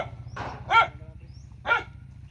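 A dog gives a few sharp, separate barks, clearly spaced, over a low steady mechanical hum at a house construction site.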